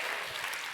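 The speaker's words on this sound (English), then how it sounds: "Give yourselves a round of applause." A keynote audience at World Domination Summit 2019 claps steadily on cue, a dense unbroken spatter of applause filling a large room for under a second.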